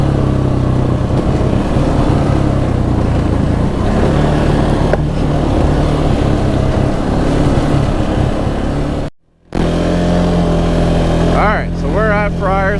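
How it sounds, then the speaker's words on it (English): An ATV engine drones steadily at low revs while engine braking downhill, with a brief dropout and then a wavering, rising whine near the end. "The engine brakes on these work so good that I have to touch the throttle to go down."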